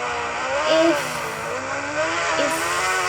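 A new motorcycle engine droning steadily while riding, with rising and falling revs as the throttle changes, heard close and continuous.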